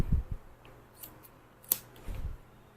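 A few sharp metallic snips of grooming scissors cutting a Havanese dog's hair, quiet and close, spaced irregularly with soft low thumps in between.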